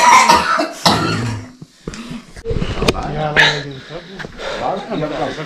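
A person with a bad cough lets out a few harsh coughs and throat clearing close to the mic, mixed in with ongoing speech.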